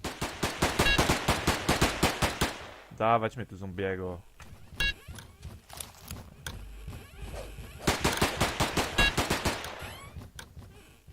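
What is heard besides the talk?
gunfire in a video game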